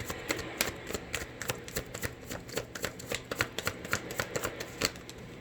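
Oracle cards being shuffled by hand, a quick run of crisp papery riffles and flicks repeating steadily at close range with no talking.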